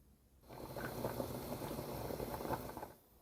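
Carrots and parsnips in cold water on a stovetop come to a boil, with bubbling and gurgling that swells in after a quiet start, holds steady, then fades out. The sound is close and fairly soft.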